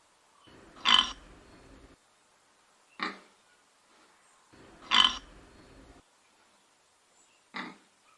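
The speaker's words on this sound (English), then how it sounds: "Pig snort." A pig snorting in a run of wild animal calls, heard as four loud, rough bursts: two longer grunting snorts, each followed by a short sharp snort, with quiet gaps between them.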